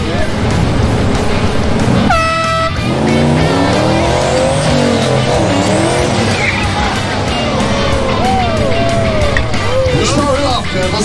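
A 1936 Pontiac Silver Streak sedan does a burnout at a competition: a loud engine roars, tires squeal, and rising and falling whines sweep through. A horn blast cuts in briefly near the start, over a noisy crowd.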